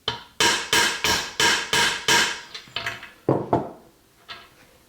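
Hammer taps seat a part into a crate engine: six quick, evenly spaced metallic knocks, then a looser run of lighter and heavier strikes that trail off, close and loud.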